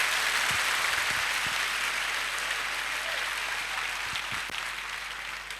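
An audience claps steadily for several seconds at a live stage event, a dense, even wash of applause that slowly fades a little toward the end.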